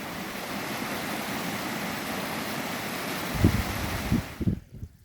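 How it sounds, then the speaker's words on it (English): Stream water tumbles in Great Langdale valley, a continuous broadband rush heard close, with a few thumps near the end before it cuts off abruptly. "there goes the stream, tumbling away. I love the noise, love the water."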